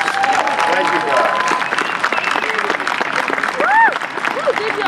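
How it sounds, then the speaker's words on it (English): An outdoor amphitheater concert crowd claps steadily for a few seconds, with whoops and voices calling out over the applause. "Let's give another round of applause."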